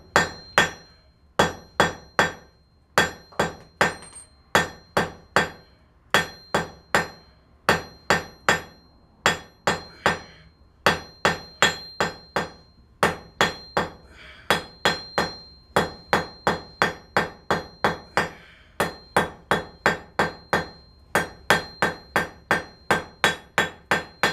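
A hammer strikes a hot steel bar on an anvil at a forge, drawing it into a short taper: ringing metallic blows in quick bursts of two to five, repeated steadily with brief pauses, close and loud.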